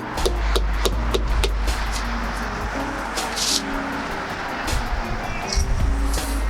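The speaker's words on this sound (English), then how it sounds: "Hammer, get this first one started." A hammer drives a nail into vinyl siding in a quick series of sharp, close taps, the blows loud and rhythmic over a low background rumble.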